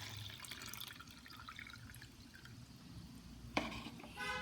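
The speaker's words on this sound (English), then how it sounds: "I am pouring little water into this." Small amount of water poured into an automatic hand sanitiser dispenser built with an IR/PIR sensor, a faint trickling and dripping, with a brief sharper splash near the end in a quiet room.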